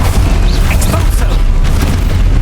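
A booming spell blast in Hogwarts Legacy, the Expulso charm, fires amid dense, continuous game noise with a low rumble and bursts. A voice calls out over the effects.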